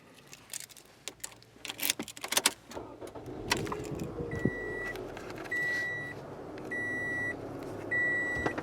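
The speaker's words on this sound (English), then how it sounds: "I'm going to go ahead and start the car up." A 2012 Scion xB starts up after some handling and key clatter, its engine settling into a steady idle as a chime beeps in repeated bursts nearby.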